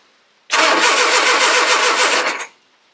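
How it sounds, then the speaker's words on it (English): A rebuilt Triumph Spitfire engine, fitted in a Herald 13/60 with the ignition disconnected, cranks over on the starter for about two seconds, a loud close rhythmic churning that starts and stops abruptly without firing. "I'm going to give it a crank the oil pressure back up."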